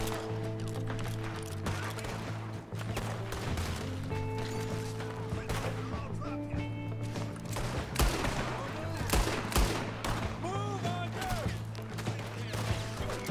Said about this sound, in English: I would if there weren't people shooting at me!